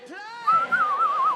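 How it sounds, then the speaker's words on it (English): A penny whistle preset on a synthesizer plays a short, bright gliding phrase that wavers up and down in pitch for just over a second. "is it a penny whistle setting on your synth?"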